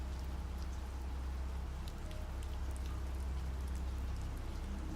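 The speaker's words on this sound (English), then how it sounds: "let the rain fall and let yourself drift into the eerie calm" Steady rain falls in a dense, even hiss with scattered drip and patter sounds on top, continuous and close, with no voices.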